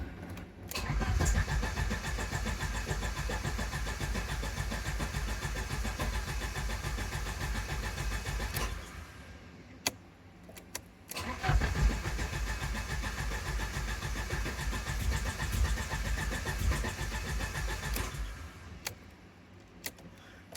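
Alfa Romeo 75 engine cranking and catching twice, each start running steadily for several seconds before cutting out, loud and close with no talking.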